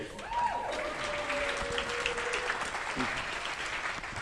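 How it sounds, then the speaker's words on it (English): Meeting audience breaks into sustained applause for Mr. Cooley, a dense wash of clapping with a few voices and a brief call rising over it. "Speaking of applause, how about this guy right here"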